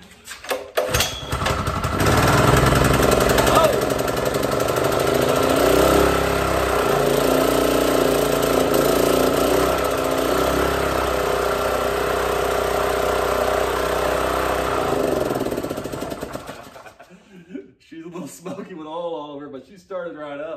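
A Honda GX200 small engine runs after a carburetor cleaning, a loud steady buzzing drone that lasts about fifteen seconds before cutting out, with a brief voice heard afterward.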